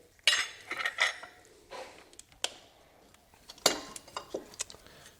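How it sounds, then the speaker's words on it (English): A wrench works the idler pulley bolt beside the alternator on a 2006 Chevy Impala, giving scattered light metallic clinks and taps, close and fairly quiet, with uneven pauses between them. "I've got my wrench on there, and I'm simply going to loosen up the bolt"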